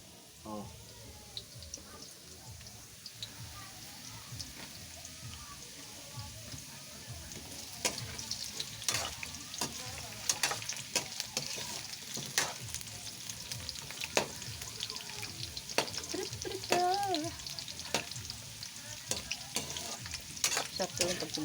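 Onion and garlic fry in a pan with potatoes and carrots, a steady sizzle broken by repeated sharp clacks and scrapes of stirring that grow louder partway through, with someone talking now and then.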